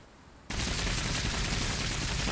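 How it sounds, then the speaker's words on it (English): Gunfire in the video game Cepheus Protocol erupts suddenly after a quiet moment, becoming a continuous, loud and close roar of shooting. "We're shooting it now"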